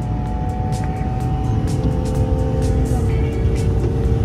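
A BMW E39 523i with automatic gearbox accelerates under full-throttle kickdown, its inline engine droning loud and steady from inside the car, with a rising tone near the end.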